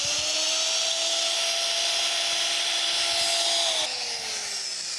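A magnetic drill with a 27/64 drill bit whines steadily and close, a high, even drilling tone that drops slightly near the end.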